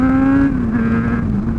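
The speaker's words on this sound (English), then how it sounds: "Go down to a couple of gears." A motorcycle engine revs loud and close as the rider shifts down through gears, its droning pitch sliding lower over a second and a half.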